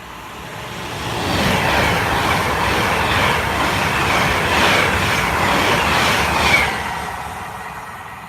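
An Avanti train passes steadily with a rumbling roll and rhythmic wheel clatter, building over about a second, holding loud for several seconds, then easing away, heard alone with no talk.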